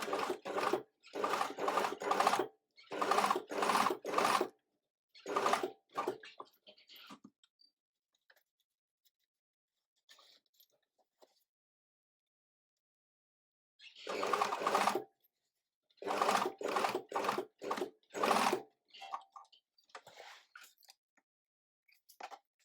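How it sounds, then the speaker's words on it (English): A sewing machine stitches a second row along a trouser fly in short whirring bursts separated by pauses. After a long quiet gap it runs again in several more spurts. "And now I'm going to do another row of stitching 2 millimeters from the original."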